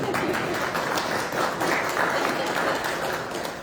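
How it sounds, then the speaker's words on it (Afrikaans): A church congregation claps hands together during a Sunday service, a dense, steady wash of many hands filling the room throughout, with faint voices mixed in. "klap hande asseblief"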